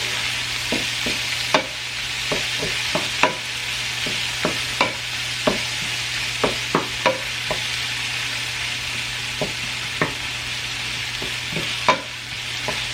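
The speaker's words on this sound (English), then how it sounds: "I'm going to just kind of stir this all together." A spoon stirs food in a cooking pot during early-morning home cooking, clacking against the sides in irregular taps and scrapes over a steady background hiss.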